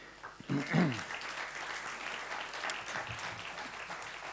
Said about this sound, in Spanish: de nuevo un aplauso